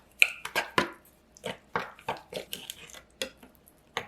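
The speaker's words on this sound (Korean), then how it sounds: "참기름 1 작은술 넣어 잘 섞어주세요." Soy sauce, apple cider vinegar, raw sugar, ground and whole sesame seeds and sesame oil stirred together in a small bowl, giving a series of close, light clinks and scrapes of a utensil against the dish in an uneven rhythm.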